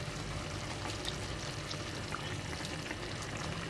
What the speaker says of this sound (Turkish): Bir çay bardağı kadar sıcak su ekledim.